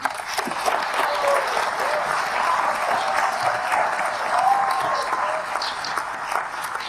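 Sustained audience applause at a public event in Bangalore, steady and loud throughout with a few whoops and calls rising above the dense clapping.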